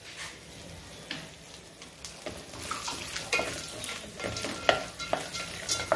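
Dry fruits with pistachios and pumpkin seeds roasting in a pan, soft scraping and stirring with scattered small clatters and a faint sizzle, close by and fairly quiet.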